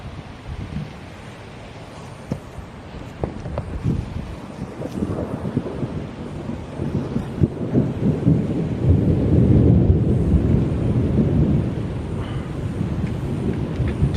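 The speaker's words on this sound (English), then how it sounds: "Did you hear that thunder as I was setting up the camera?" Thunder during a windy storm with rain in Las Vegas, low rolling rumbles that swell and grow louder toward the middle, with wind buffeting the microphone throughout.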